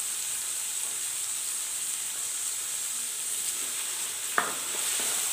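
Mixed vegetables frying in a pan with a steady, close hiss and sizzle throughout, broken by a single brief clink near the end.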